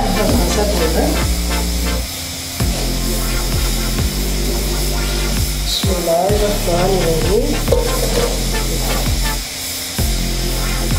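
Onions frying in oil in a pan, a steady loud sizzle and hiss with occasional stirring scrapes and clinks, heard alone without talk.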